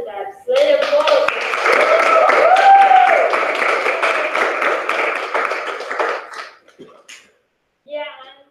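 An audience at the final Blockchain Hackathon in Madrid breaks into loud, sustained applause with voices calling out over the clapping, which fades after several seconds into scattered claps and quiet.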